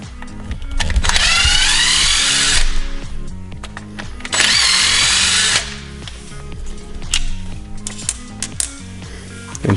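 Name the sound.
power drill removing screws from Traxxas RC car rear end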